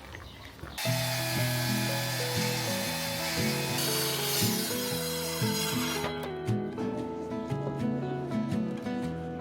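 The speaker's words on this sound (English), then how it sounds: "I use the miter saw." A miter saw cuts wood during exterior home renovation work, its motor holding a loud, steady, whining drone for several seconds with a shift in pitch as the blade works through the piece.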